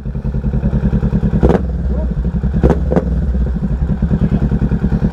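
A 2022 Kawasaki Ninja 650 motorcycle engine idles steadily nearby, with a few short sharp revs breaking through and people talking over it.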